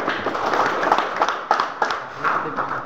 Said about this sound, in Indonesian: Kita tepuk tangan buat Tuhan Yesus.